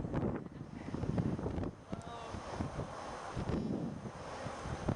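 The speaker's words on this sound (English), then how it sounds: "There comes the wind, gusts of wind." Blustery wind roars across the microphone in uneven gusts, a dense low rumble that swells and eases, with some faint activity in the background.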